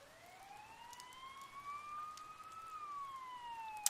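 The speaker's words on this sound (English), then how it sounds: "You can hear sirens nearby." A single wailing police siren from the video game Persona 4 Golden rises slowly in pitch and then falls, a faint, steady tone heard alone with a brief click at the end.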